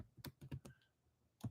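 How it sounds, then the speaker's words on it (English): A few quiet keystrokes on a computer keyboard come in a quick burst, then a pause and one final tap, all close and soft. "let me type it in"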